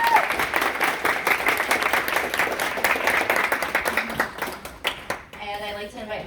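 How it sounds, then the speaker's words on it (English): Audience applause at a university transfer event fills the room with steady, dense clapping that thins toward the end, with voices talking over it. "Let's give them a big round of applause."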